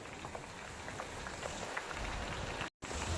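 Hair-growth oil bubbling in a pan as it heats, a dense steady crackle and fizz of small bursting bubbles throughout, with a brief dropout near the end.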